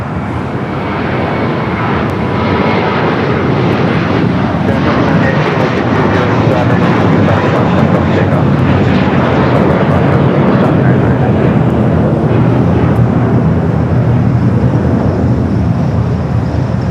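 A Qantas Boeing 787 Dreamliner's jet engines roar steadily and loud at LAX, a broad continuous rumble that holds through the whole stretch, with a voice talking over it.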